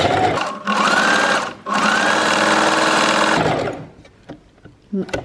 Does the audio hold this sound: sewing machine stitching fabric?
yes